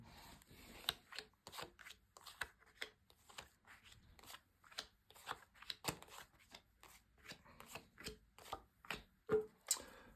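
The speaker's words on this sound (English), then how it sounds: "Just going to lay down your 10 cards on the table." Tarot cards slapped down one after another on a table, a steady series of soft, quick taps and slides, close and clear, with no voices.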